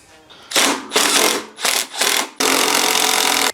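An impact driver backs out four bolts from a Cub Cadet 833E mower deck spindle, several close, loud buzzing bursts, the last one longest and steady.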